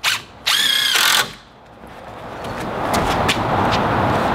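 A power drill drives screws into a wooden DIY garden trellis, giving two short, loud whirring bursts up close, followed by quieter rustling and handling noise.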